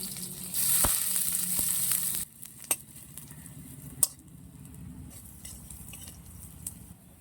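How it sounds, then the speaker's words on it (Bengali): Onion, garlic and ginger fry in a pan with a loud, steady sizzle for about two seconds. The sizzle then drops to a quieter crackle, broken by a few sharp utensil clinks against the pan. "পেঁয়াজ রসুন আদা ভাজা হয়ে গেছে আমার,"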